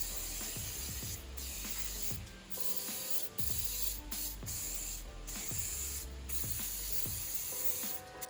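Engine degreaser sprays from an aerosol can onto an H22 transmission in short, close hissing bursts, repeated about eight times, with ratcheting clicks and mechanical knocks in between.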